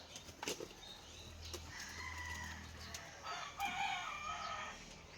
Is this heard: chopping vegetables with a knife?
no